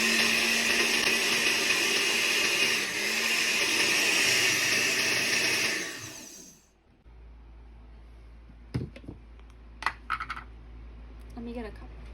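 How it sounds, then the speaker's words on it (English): A blender whirs loudly through green juice ingredients for about six seconds and then stops, leaving quiet room sound with a few faint clicks and knocks. "turn the blender on, maybe for like 10 seconds"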